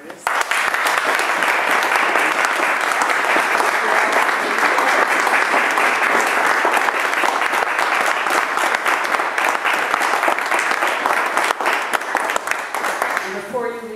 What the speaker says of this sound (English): I'd like to applaud Shea and the other artists